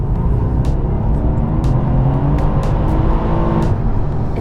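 A Mercedes-Benz C63 AMG engine roars steadily as it accelerates, a loud, deep rumble heard from inside the car with occasional clicks.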